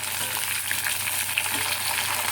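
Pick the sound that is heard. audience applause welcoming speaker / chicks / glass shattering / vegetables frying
vegetables frying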